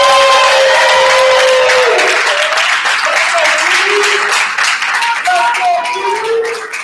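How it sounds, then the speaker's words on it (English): A crowd at a fishing charity meet-and-greet breaks into loud, dense clapping that fades slowly, with cheering and a voice over the applause. "Please give a big round of applause for Stephanie."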